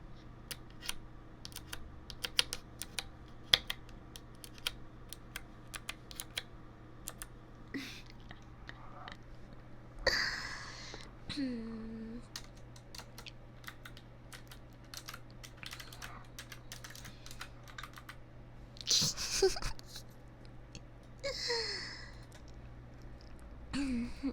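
Computer keyboard keys pressed in scattered bursts of clicky taps, close and crisp in a quiet room, with soft whispered talk drifting in between the keystrokes.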